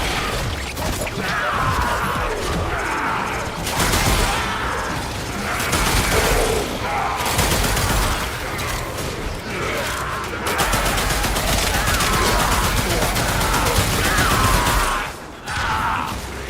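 Sustained automatic gunfire from a Warframe firefight, dense and continuous for most of the stretch with brief lulls, loud and close alongside mechanical weapon clatter and impacts.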